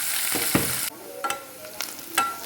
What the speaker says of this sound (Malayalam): അതിലോട്ട് നമുക്ക് കുറച്ച് വെളുത്തുള്ളി ചതച്ചത്, 2-3 പച്ചമുളക്, ഒരു വലിയൊരു സവാള നന്നായിട്ടൊന്ന് വഴറ്റിയെടുക്കാം.